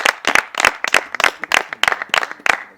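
An audience applauding, with rhythmic bursts of hand clapping from a modest crowd, close and fairly loud throughout.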